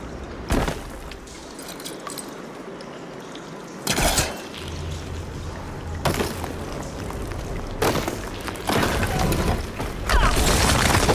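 A water flow valve mechanism switches in Horizon Forbidden West, with several loud mechanical clunks and surges spaced a few seconds apart over a constant trickling, pouring water bed.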